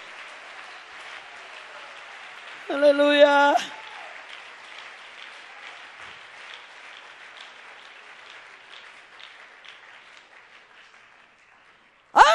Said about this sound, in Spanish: Dale un aplauso a Dios en esta hora